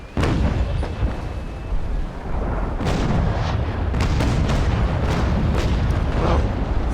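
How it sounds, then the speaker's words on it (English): Ship cannons fire a broadside in the Naval Action game in a snowy setting, a dense run of loud booming shots rolling one after another over a constant heavy rumble, with no voices. "I'm not sure if my doubles will reach him, but nevertheless it's worth a shot at least."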